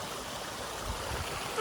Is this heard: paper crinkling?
no